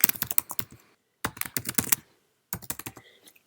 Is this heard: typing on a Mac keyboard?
yes